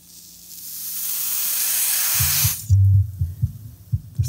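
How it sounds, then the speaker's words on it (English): Freeze spray hissing onto a Polk PSW505 subwoofer amplifier circuit board, a loud continuous close-up hiss that swells for over two seconds and then cuts off, followed by low thumps and hum. "I found one area that's extremely sensitive to the free spray"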